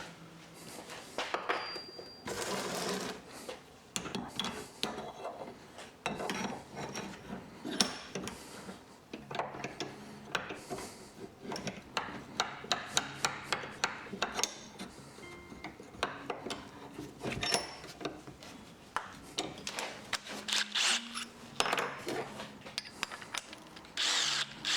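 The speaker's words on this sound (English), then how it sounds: "And so we're gonna go and drill with the big ass one." A large power drill bores a hole during suspension work on a front sway bar, running in long loud bursts with short pauses and a busy, gritty whine throughout, close up with no talking.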